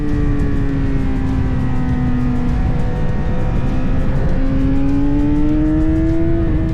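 Motorcycle engine captured on an Insta360 X5 camera while riding, a loud steady drone with harmonic tones climbing and shifting as revs change, close and continuous with little wind noise.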